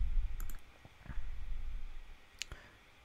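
A computer mouse gives a few light, sharp clicks spaced irregularly over a few seconds, close and quiet against a faint background hum.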